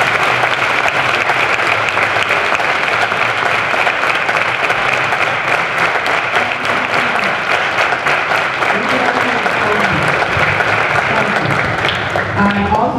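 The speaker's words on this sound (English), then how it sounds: "Give them a round of applause." Sustained, loud audience applause for veterans at a 9/11 remembrance event with students, steady clapping filling the room for the full stretch with some crowd voices mixed in.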